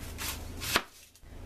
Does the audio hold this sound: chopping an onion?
yes